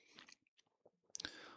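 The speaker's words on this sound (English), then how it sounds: "Excuse me for chewing gum today." Quiet, close chewing of gum in short irregular wet clicks and smacks, with a louder crunchy burst near the end and no talking.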